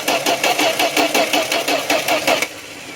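Engine of a 1972 Plymouth cranking on a cold start, a rapid rhythmic starter churn of about a dozen even pulses, loud and close, then stopping into a quieter hum.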